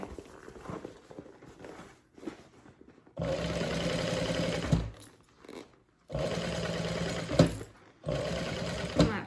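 A sewing machine stitches a handbag in three loud bursts of rapid, steady needle chatter, separated by brief pauses and quieter handling noise.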